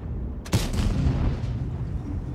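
A single heavy tank gun shot fires in World of Tanks, a sharp boom with a rumbling tail that fades over about two seconds, with no talking over it.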